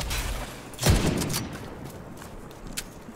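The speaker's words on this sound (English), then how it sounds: "Oh, he's actually firing on us." A Marauder-class quadcopter in The Division 2 opens fire: a loud burst of gunfire hits near the start, followed by scattered fainter shots and impacts against a rumbling combat backdrop.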